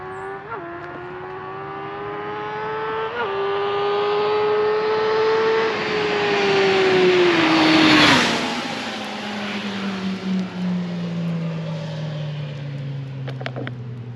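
A 2020 Suzuki GSX-S 1000 motorcycle on a dyno revs up through rising and falling tones, holding high RPM before easing back down, loud and close with no talking.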